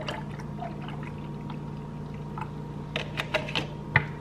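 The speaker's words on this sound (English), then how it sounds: "Then I add some almond milk." Trader Joe's almond milk is poured into a glass, giving a soft liquid trickle with light clinks and taps. The sound is fairly quiet over a steady low hum, with no talking.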